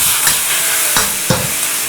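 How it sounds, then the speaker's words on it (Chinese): Water spinach stir-fried in a hot wok, sizzling steadily with a few scraping tosses of the spatula and no talking. "把空心菜倒在鍋中，快速翻炒均勻，炒出香味兒。"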